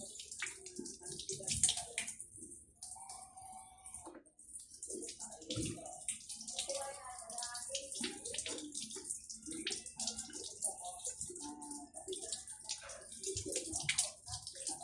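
Sliced food being rinsed under a running tap, water splashing and gurgling in irregular bursts, close and fairly quiet, with light handling noises and no talk.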